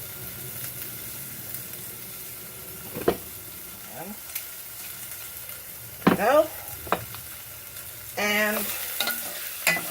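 Steak searing in a hot pan gives a soft, steady sizzle punctuated by a few sharp clinks and scrapes, while a voice speaks briefly.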